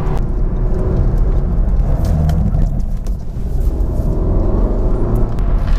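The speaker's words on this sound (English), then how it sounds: "I got it oversteering yesterday inadvertently on quite a busy roundabout" A used Audi S1 hot hatch runs on a busy roundabout while oversteering, heard as a loud, steady engine and road rumble from inside the car with little variation.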